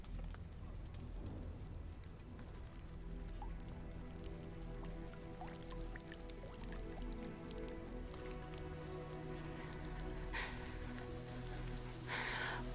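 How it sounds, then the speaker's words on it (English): Rain falls steadily in the game The First Descendant, a constant dense patter with dripping on surfaces and faint low tones beneath. "Is this rain?"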